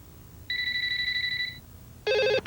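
Telephone ringing in a Kids Help Phone commercial: a steady two-tone electronic ring for about a second, then after a short pause a louder, warbling burst of ring tones, clear and alone with no talk.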